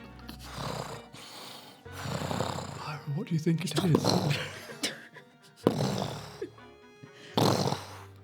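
A narrator imitates the heavy breathing of a lurking forest creature in fantasy tabletop storytelling, giving rough, snoring-like snorts and huffs in bursts that alternate with ordinary talk from other players.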